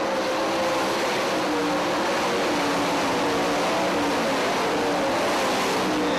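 Sprint cars race on the dirt track at Sharon Speedway, a dense, continuous roar of engines at full throttle, loud and sustained without a break.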